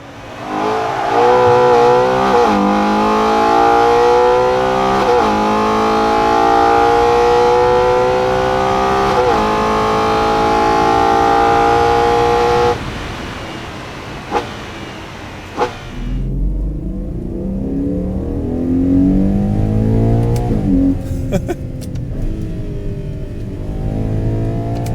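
A Ferrari Purosangue's naturally aspirated 6.5-litre V12 with a dual-clutch gearbox and an 8250 rpm redline revs loudly. Its pitch climbs steadily, breaks at a shift, then settles into a deeper drone with a few sharp pops.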